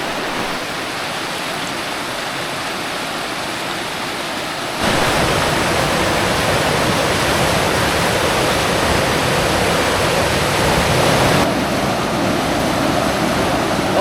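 Rushing high water from a swollen stream right beside a hiking trail, a steady broadband roar that grows markedly louder partway through as the listener moves closer, then eases slightly near the end, with no voices.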